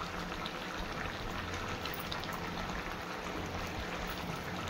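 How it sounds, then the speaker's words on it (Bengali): Chhana curry gravy bubbling in a pot, a dense continuous simmering hiss and gurgle at even loudness throughout, with no talking. "এভাবে ফুটছে ঝোলটাও"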